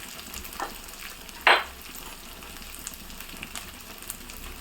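Rock salt tossed into coconut rice in a pan, a single sharp gritty rattle over a soft steady sizzle and faint stirring scrapes, no talking.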